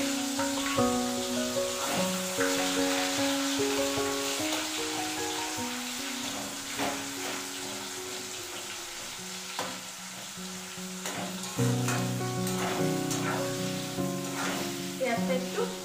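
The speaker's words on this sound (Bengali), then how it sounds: "তেলের মধ্যে দিয়ে দেবো আমি কুচনো পেঁয়াজ।" Chopped onion frying in hot oil, a steady close sizzle with stirring, while tonal music plays over it the whole time.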